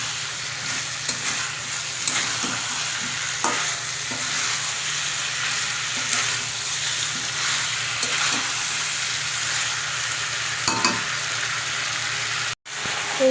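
Already fried cauliflower and potato tossed with spices in a hot pan, a loud steady sizzle with scattered scrapes and clinks of stirring, close, continuous and without talk.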